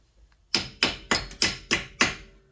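Six sharp metallic whacks in a quick, even rhythm, struck close up with the back of a ratchet against a seized rear wheel bearing on a Dodge Journey.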